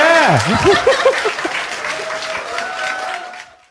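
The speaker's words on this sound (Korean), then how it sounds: "뭘 박수야, 이게!" Audience applauding during an interview session, a short wash of clapping with a voice talking over the start and some laughter, tapering off to silence.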